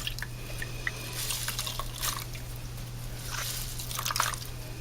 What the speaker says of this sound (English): I'm just going to squeeze and squeeze until all that water gets out.